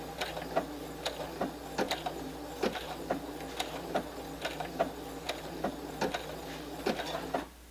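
A sewing machine runs short bursts of stitching on a fall quilt table runner, a steady mechanical clatter with a low motor hum and regular clicks, close and clear with no talking.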